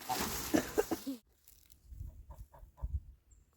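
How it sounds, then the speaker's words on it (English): A small silkie chicken gives a few soft, quiet clucks in a short series, following a brief burst of louder noise. "The little silky chicken came out."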